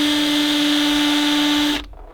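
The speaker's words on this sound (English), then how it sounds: "I'm going to grab the drill, start my first hole." An electric drill starts a hole for mounting a downrigger lanyard, with a steady close whine that holds for almost two seconds and then cuts off abruptly.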